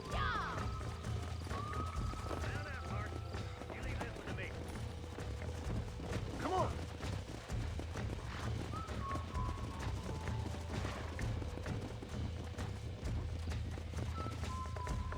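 Steady galloping hoofbeats from a horse in Red Dead Redemption on Nintendo Switch, with a whinny over continuous game noise and music; a voice talks intermittently throughout.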